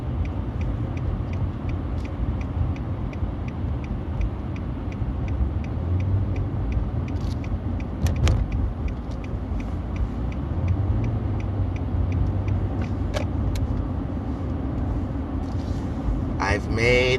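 A car cruising along a freeway on the morning drive to work, with a steady low road and engine rumble that runs throughout and faint ticking clicks on top. A person talks over the drone.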